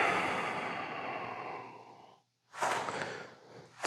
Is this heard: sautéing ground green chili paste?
no